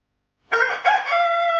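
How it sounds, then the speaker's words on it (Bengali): A cartoon rooster crows at dawn, a single clear, close cock-a-doodle-doo rising after a moment of silence and holding to the end. "ভোরবেলা মোরগের ডাক শুনে"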